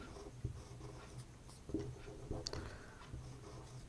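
A pen writes on paper in a quiet room, scratching in short strokes with small irregular taps, close and faint, with no talking.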